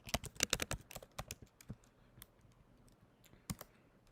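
Rapid keystrokes on a computer keyboard, a close, crisp run of clicks that thins into sparser taps, with no talking over it.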